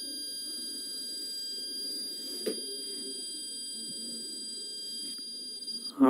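A steady high-pitched electronic buzzer drones from an alcohol-sensing student electronics project with the engine cut off, holding one constant tone under low room noise before a few clicks and handling sounds near the end.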